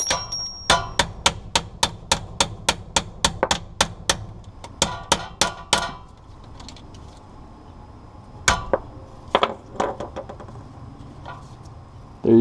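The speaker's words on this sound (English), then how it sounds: "I usually just use a hammer with a bolt that's similarly sized, hold it in place, and get it pushed out" A hammer striking a bolt to drive a roll pin out of the shifter on a 1988–91 Honda CRX during a billet aluminum shifter bushing install: a rapid series of sharp metallic taps, a pause, then several more blows, close and loud.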